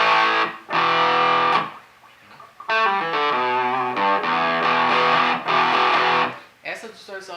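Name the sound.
electric guitar through practice amp with crunch distortion, bridge pickup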